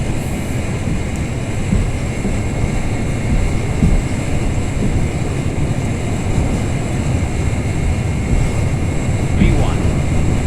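A Boeing 747-400's jet engines roar during the takeoff roll in the FSX flight simulator, a dense, continuous rumble holding steady throughout with a faint rising whine near the end.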